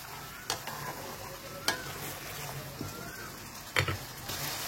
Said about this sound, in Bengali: মশলাটার সাথেই ভালো করে কষিয়ে নেব আমি